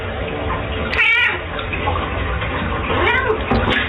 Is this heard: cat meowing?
yes